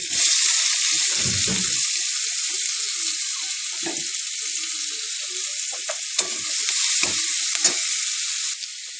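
Onions are frying in hot oil with green cardamom, cinnamon and bay leaf. A loud, continuous hiss lasts throughout, broken by a few soft thumps and scrapes from stirring, up close with no voices.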